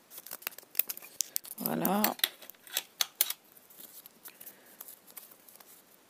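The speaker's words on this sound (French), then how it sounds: "Donc, ciseaux. Et on coupe." Scissors snip through paper during a scrapbooking craft session, a quick series of sharp close cuts in bursts, with a brief spoken word partway through.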